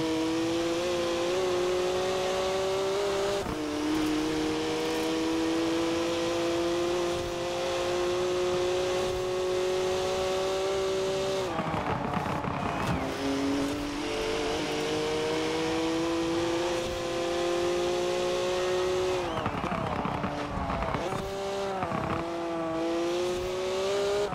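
A car engine in Forza Horizon 4 drones continuously, rising in pitch as it revs, then dropping briefly at gear changes before climbing again.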